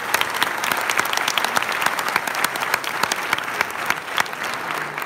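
Sustained audience applause at a mystic music festival concert, a dense, even patter of many hands clapping that holds steady throughout with no talk over it.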